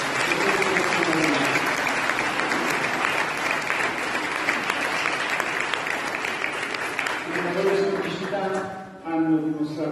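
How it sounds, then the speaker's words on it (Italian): Big, sustained applause from a parish congregation in the church of Sant'Andrea in Jelsi, a dense steady wash of clapping that fills the room, with voices rising over it near the end. "Voglio fare un applauso grande."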